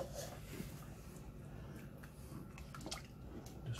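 Stock made with boiling water is poured into a pot and stirred, a soft, continuous watery splashing and sloshing with small drips, heard fairly faintly and without talk.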